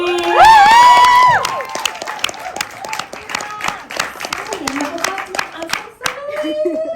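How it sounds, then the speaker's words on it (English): An audience breaks into applause, a dense patter of clapping hands with a few cheers and shouts. A loud voice rings out at the start. "please give a big round of applause for Habiba Ali."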